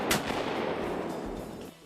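A sharp shotgun shot at ducks cracks at the start, followed by a long rolling echo that slowly fades, ending with a brief noise, during a duck hunt in Stuttgart.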